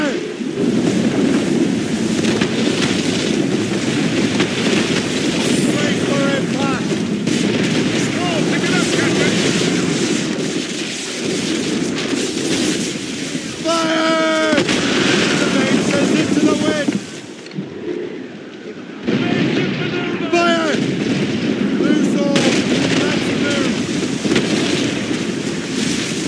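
Naval battle in the video game Assassin's Creed Rogue, a legendary ship fleet against a French fort in a storm: dense rumbling booms of ship cannon fire under rain and wind, with shouted voices mixed in.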